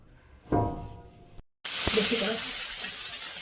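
Rohu fish pieces frying in hot mustard oil in a frying pan, a loud steady sizzle erupting after a brief silence and holding strong, following a shorter burst of frying and stirring beforehand.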